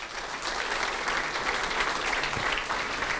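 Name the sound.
audience applause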